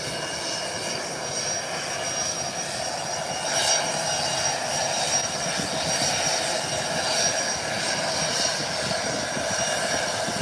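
A British Airways Boeing 777 turns around at the end of a runway, its jet engines holding a steady, continuous roar at moderate distance with no one speaking.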